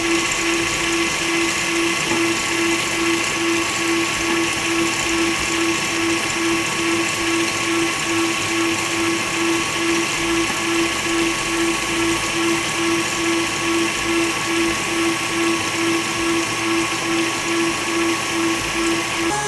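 Electric mixer whipping a sugar mixture for Christmas confections toward stiff peaks, a steady close motor whine with a constant hum, running without a break and with no talk over it.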